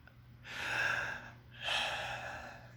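A person imitates a sharp intake of breath, drawn out twice as a loud airy gasp with a short pause in between, close and clear with no other sound.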